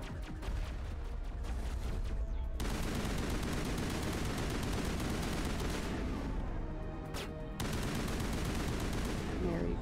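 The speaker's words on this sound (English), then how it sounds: "She's shooting at everything." Rapid, sustained gunfire from a Mass Effect shooter game, with a dense, continuous barrage that holds steady and loud across the whole stretch, breaking off briefly twice before resuming.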